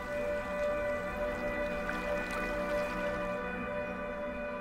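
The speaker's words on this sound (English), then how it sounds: "As it begins to bellow, its entire body vibrates" A deep, steady droning rumble with a strong buzzing tone, continuous and loud, from an alligator bellowing underwater during a mating display.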